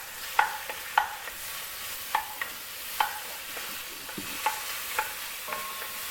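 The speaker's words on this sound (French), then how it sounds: "nous allons commencer par faire rissoler le bœuf" Beef browning in foaming butter in a pan, a soft, fairly quiet sizzle with a scatter of sharp clicks and pops of utensil contact spaced about every half second to second, close by and without voices.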